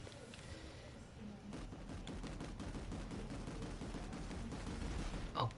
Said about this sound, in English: Popping 100 bullets into it